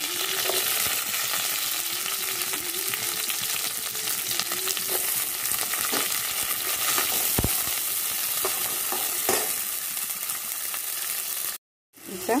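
Onion, fennel seeds and curry leaves frying in hot oil in a pan, a steady close sizzle with occasional stirring scrapes, ending in a brief cut of silence.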